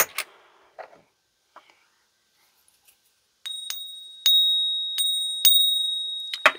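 Faint rustling and soft whisper-like noises come first, then after a pause a silver coin under test rings in a quick series of about five bright metallic pings, each tone lingering and overlapping the next.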